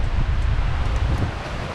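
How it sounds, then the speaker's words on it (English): Gusty wind pounds along the Lake Superior shore, a loud low roar with microphone buffeting and faint wave wash beneath, easing slightly near the end. "You can hear the wind out here right now."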